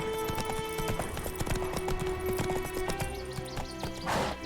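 Roach the horse cantering in The Witcher 3, hooves clip-clopping in a quick, even rhythm over sustained musical tones from the game, close and clear with no voices.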